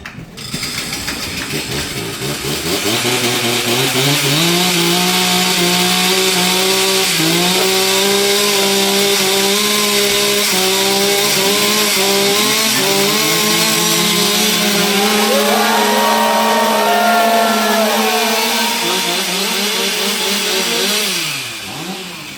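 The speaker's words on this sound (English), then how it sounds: "why don't we get those chainsaws warmed up?" Several chainsaws rev loudly together to warm up at a USA versus Canada lumberjack competition, their engines rising and falling in pitch for about twenty seconds with no talking.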